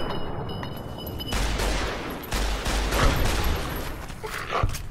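Rapid bursts of gunfire from the video game Fallout: New Vegas, loud and close, with repeated volleys over about five seconds and no talk over them.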